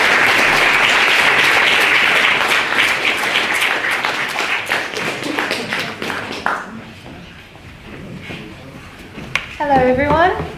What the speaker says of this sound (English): Please give Josie a massive round of applause